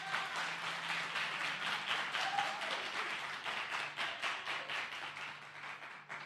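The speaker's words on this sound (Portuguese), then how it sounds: "cadê aquele grupo que aplaude o nome de Jesus?" Church congregation applauding after a preacher's call, a dense steady wash of many hands clapping that fills the whole stretch at even strength, with no speech over it.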